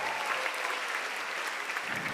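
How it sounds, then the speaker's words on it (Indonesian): A stand-up comedy crowd in Bali claps briefly, a dense, fairly quiet patter of applause with no voices over it. "Tepuk tangan dulu dong."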